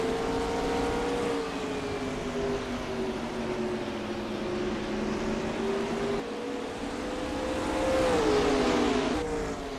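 Stock cars race around the I-70 oval in NASCAR Racing 2003, a steady, loud engine drone with harmonic whine shifting pitch as cars lap, swelling slightly near the end.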